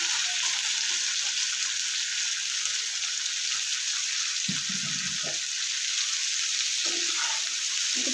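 Bitter gourd and potatoes frying with onion in a pan give a steady, fairly loud sizzle throughout, with a few brief spatula stirs and clatters near the middle and end, no voices.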